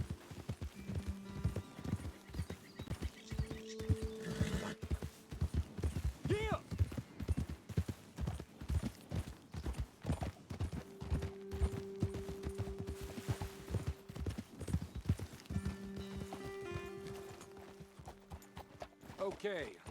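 Steady clip-clop of horse hooves trotting throughout in the video game Red Dead Redemption 2, with a brief whinny and people talking over it in the background.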